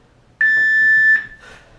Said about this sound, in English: When you hear the beep, that means the start of the minute.